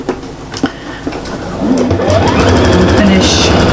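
A sewing machine top stitches a double-sided Christmas cushion, its motor whirring loud and steady and building after a few faint stops and starts, with a voice speaking over it.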